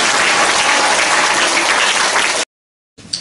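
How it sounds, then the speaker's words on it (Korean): A church congregation bursts into dense applause at a bishop's installation service. The loud clapping is sustained for over two seconds and then cuts off abruptly, and a brief sound follows after a short silence. "박수를 드립니다."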